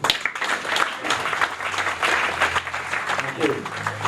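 Audience at a Bahá'í community anniversary celebration in Malacca breaking into sustained applause, a dense, even wash of many hands clapping filling the room, with some voices mixed in.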